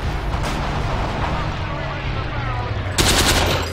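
Tommy gun fire in the multiplayer war game Forgotten Hope 2, a steady dense clatter of automatic shots over loud battlefield noise, with a sharper, louder burst near the end.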